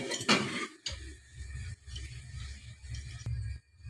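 Meat goes into a pot of Hyderabadi biryani with fried brown onion and biryani masala. A metal utensil clinks and scrapes against the pot, then comes a steady soft rustle of stirring and shifting, with no speech.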